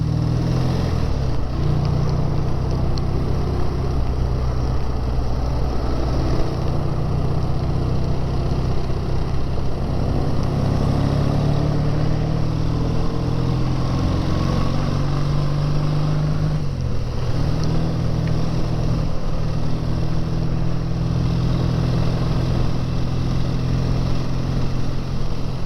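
A BSA 650 A10 motorcycle engine drones steadily while riding down tight country lanes, a loud, constant low rumble held close for the whole stretch with small shifts in pitch.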